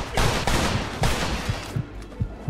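Rapid gunshots in Mafia 2 during a shootout from cover, a fast run of loud, punchy cracks over about two seconds that thins into a few spaced, quieter shots.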